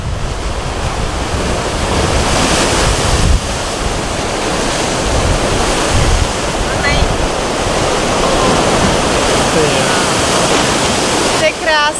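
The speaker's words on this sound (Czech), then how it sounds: "Všude surfaři, ohromné vlny, takhle prostě kamenný pobřeží." Huge ocean waves crash and roar continuously against the rocky coast at Peniche, Portugal, a loud, dense surf wash with wind buffeting the microphone.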